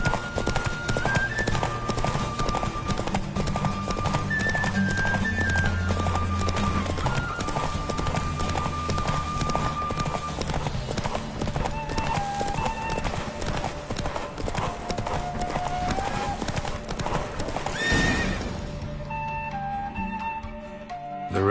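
Rapid, rhythmic hoofbeats of a galloping horse in a race in the game The Witcher 3 pound continuously over game music and effects, with a whinny, before the sound drops away near the end.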